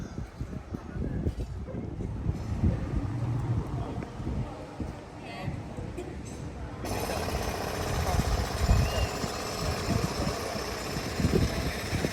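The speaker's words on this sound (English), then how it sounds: "Everywhere I go these days there seems to be somebody digging a hole or using a pneumatic drill very loudly" Pneumatic drill breaking ground in a small Kent seaside town street, rattling in irregular bursts at moderate distance, mixed with idling engine hum and microphone wind noise.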